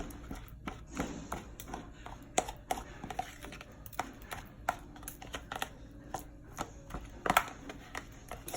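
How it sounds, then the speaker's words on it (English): Soft repeated tapping and squishing as banana is mashed in a bowl until almost liquid, irregular and close, with no talking. "she's just mashing up the banana until it is pretty much just a liquid almost"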